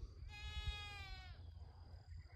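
A goat on a homestead lets out a single clear, drawn-out bleat of about a second, fairly faint against a low outdoor rumble.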